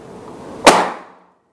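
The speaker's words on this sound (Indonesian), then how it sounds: "Oke, tembakan pertama." A Ruger PCP air rifle in Monel Black Army OD 27 fires once, a single sharp, loud crack with a short decaying tail, preceded and followed by quiet.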